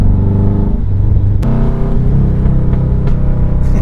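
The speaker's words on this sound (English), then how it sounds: "Good pops." A 1991 or 1993 Subaru Legacy on twisty forest roads, engine rumbling loudly up close with a few sharp exhaust pops and crackles punctuating the drone, the clearest pop near the middle.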